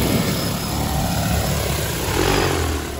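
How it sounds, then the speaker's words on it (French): A DJI Agras T40 agricultural seeding drone flies nearby, its rotors making a steady, loud, broad whirring drone that holds even for about three seconds with no voices. "le drone qu'on utilise pour faire des semis, c'est le modèle Agras T40 de la marque DJI"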